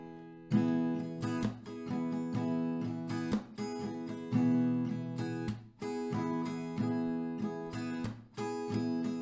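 An acoustic guitar strums a chord in a repeating rhythmic pattern of down and up strokes, with a percussive muted hit in each bar, played close.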